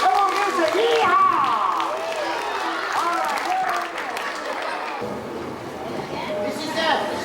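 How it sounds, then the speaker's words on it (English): A circus audience applauds in a big tent, a broad wash of clapping that fades partway through, with a loud announcer's voice talking over it. "Give her a big round of applause."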